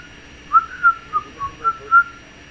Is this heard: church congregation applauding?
no